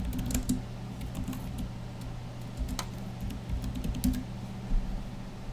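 Typing on a computer keyboard, a close run of quick, uneven key clicks and taps in short bursts, alone without talking.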